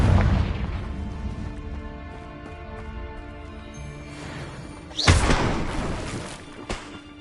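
Confringo fire spell blasts in the video game Hogwarts Legacy, with a heavy booming rumble fading from the start and a second sharp burst later, set over sustained game music.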